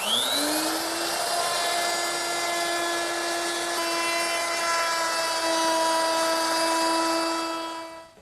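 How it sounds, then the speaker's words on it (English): A router fitted with a quarter-inch round-over bit mills the edges of ash boards for a drop leaf table, spinning up at the start and then holding a loud, steady, high-pitched whine with no talk. "to do that, I'm going to use my 1/4 inch rounding over bit."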